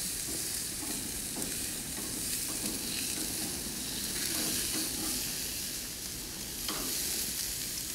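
Chicken sizzles steadily on a hot grill after being flipped, a constant frying hiss with soft crackle that stays fairly even from start to finish, with no voices.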